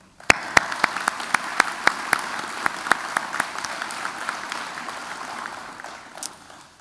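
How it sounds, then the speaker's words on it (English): Police academy graduation audience gives a round of applause, starting with a few sharp, distinct claps that spread into scattered, rhythmic clapping across a hall before tapering off. "Please join myself and our class in giving Director Perriott and Coordinator Feldhauser a round of applause."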